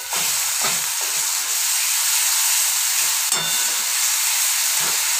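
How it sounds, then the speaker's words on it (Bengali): Ground spice paste hits hot oil with chopped onion and sizzles loudly and steadily, broad hissing frying noise with occasional spatters and stirring scrapes, no talking. "এবারে মিক্সির বাটা মশলাটা দিয়ে দিচ্ছি"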